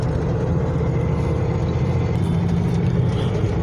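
A 4x4 truck with a GM SM465 four-speed transmission lugs slowly around town at about 1100 RPM, giving a steady, loud, low engine drone with road rumble and no voices.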